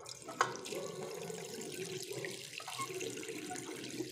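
Water runs steadily from a tap in a home, a continuous close splashing stream that lasts throughout with a brief knock near the start.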